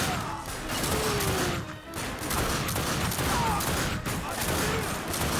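Gunfire in the video game Darkness II, a dense continuous barrage of shots with crashing impacts, loud and sustained throughout with no speech.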